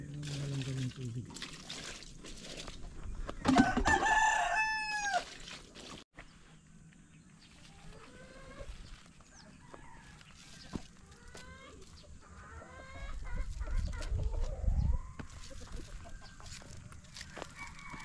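Chickens at a beach lot in Bating, a rooster crowing loudly near the start and hens clucking intermittently afterward, close by over quiet outdoor background with a person speaking at times.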